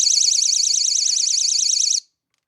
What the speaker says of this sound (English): Very, very loud.